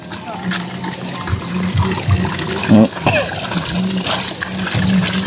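Water being fetched and poured outdoors near a planting plot, with trickling and splashing pours coming in short bursts among background voices and light clatter.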